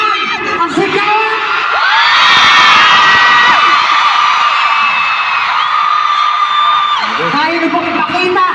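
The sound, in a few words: concert crowd screaming and cheering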